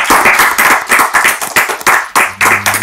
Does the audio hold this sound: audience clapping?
yes